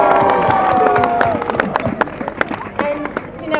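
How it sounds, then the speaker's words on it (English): At a civic reception honouring an Olympic champion in Sheffield, a crowd breaks into clapping and cheering, loud and busy, with overlapping voices and sharp claps throughout. "just a big round of applause for everyone turning up"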